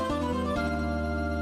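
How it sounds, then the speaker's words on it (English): Save jingle from the video game Ace Attorney Trials and Tribulations, a short bright synthesized chime of a few stacked tonal notes shifting chords twice, then sustaining steadily, with no talking. "Or whatever the save jingle sounds like this."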